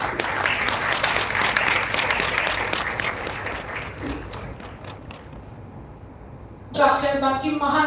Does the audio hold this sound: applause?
yes